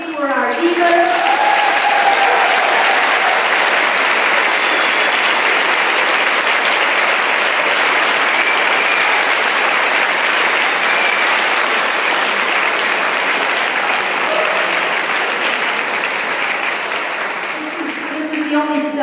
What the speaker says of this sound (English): I will allow you to now applaud wildly for our divas.